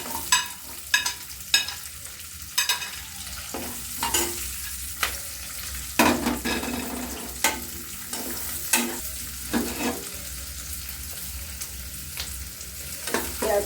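Large onion pieces sizzle in a pan for chilli paneer, a continuous frying hiss broken by sharp, repeated clacks and scrapes of a spatula stirring against the pan.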